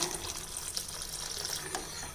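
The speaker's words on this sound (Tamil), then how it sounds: "வெது வெதுப்பான தண்ணி இதில் ஊற்றுறேன்" Warm water pours steadily into porridge in a continuous, hissing stream at close range, with no talking.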